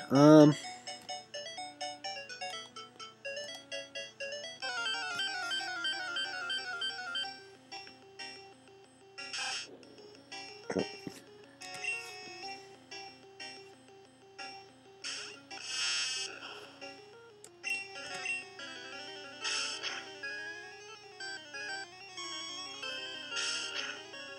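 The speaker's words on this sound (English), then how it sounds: "it's never a good sign to hear that beeping" Pokemon Red low-health warning beeps repeat in a steady electronic pattern over chiptune battle music, with a voice talking intermittently throughout.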